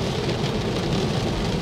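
Dense, steady hiss of rain heard from inside a Tesla Model 3 as it drives, blended with low road rumble, continuous and close with no voices.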